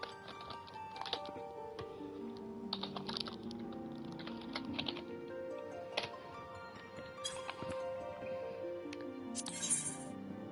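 Typing on a computer keyboard during a relaxed gaming livestream: a steady, close stream of light key clicks, with background game music playing underneath.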